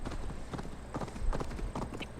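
A horse galloping along a road in the video game Assassin's Creed Valhalla, rapid close hoofbeats in a quick, uneven rhythm over a low game background.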